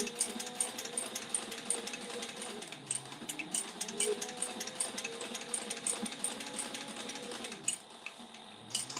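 A sewing machine stitches fabric with a fast, even mechanical chatter that runs close and steady, dipping briefly near the end before starting again.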